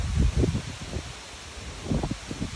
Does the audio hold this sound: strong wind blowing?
yes